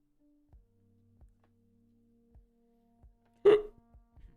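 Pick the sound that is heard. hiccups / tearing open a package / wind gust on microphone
hiccups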